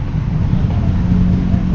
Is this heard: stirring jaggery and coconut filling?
no